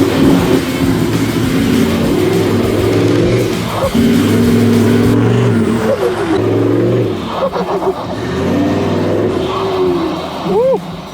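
A 4WD crawling along a soft off-road track in Cape York in low gear with twin lockers engaged, its engine droning steadily and loud up close, pitch rising and dipping with throttle, while a person talks over it.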